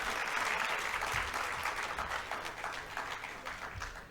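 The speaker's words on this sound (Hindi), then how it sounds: "तो शुभांकर जी के लिए एक ज़ोरदार तालियां हो जाएं।" Sustained, dense audience applause from a crowd at a public talk event in India, loud and continuous throughout before easing slightly toward the end.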